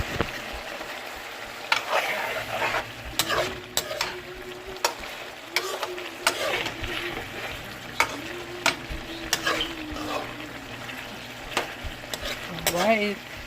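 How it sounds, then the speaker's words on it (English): Plantain fries in a pan with a steady close sizzle, broken by scattered sharp pops and scraping stirs throughout. "I'm gonna fry the plantain now."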